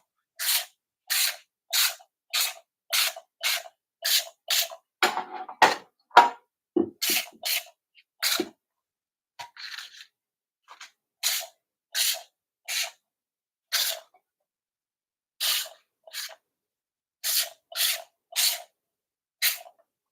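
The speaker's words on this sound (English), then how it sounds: "you also want to oil your muffin tins. So that's another place this little sprayer comes in super handy." An oil sprayer mists greased muffin tins in a long series of short, sharp hissing spritzes, evenly spaced, with a pause and some faint handling rustle midway, close up and with no talking.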